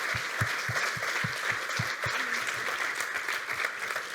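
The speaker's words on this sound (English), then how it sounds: "can we get a huge, huge round of applause for these amazing panelists?" Audience applause for the panelists at a fintech leaders event stream, a steady wash of clapping from a sizable crowd, sustained and even throughout with no speech over it.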